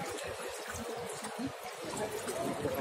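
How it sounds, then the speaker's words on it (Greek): Water rushes and trickles steadily nearby in the Portitsa gorge, a continuous splashing flow with low, uneven gurgles underneath. "ακούω ορμητικό νερό ακούω"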